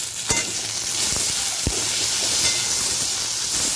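Tomatoes dropped into a pan of frying onions sizzle and hiss steadily up close, with a few sharp stirring knocks against the pan and no voices.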